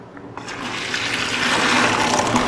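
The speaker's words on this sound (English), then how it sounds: "Just strain away the excess water." Water from a pot of boiled rice drains through a colander in a steady rushing pour that grows louder and fuller over a couple of seconds, with no talking.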